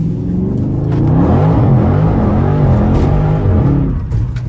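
A Chrysler 300 SRT's engine roars loudly as the car accelerates, a deep rumbling rev that climbs and holds close up for several seconds, then eases slightly at the end.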